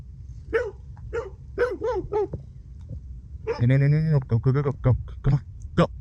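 A pack of stray dogs barks along a public cycle path in San Lorenzo, Paraguay: several sharp, fairly close barks in bursts, mixed with a person talking throughout.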